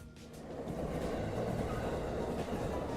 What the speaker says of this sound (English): That's a rather modern looking train, right?